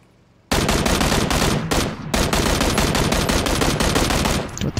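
Gunfire in PUBG, with a sudden close, loud burst of rapid automatic shots that breaks off briefly, then resumes and continues almost without pause for several seconds.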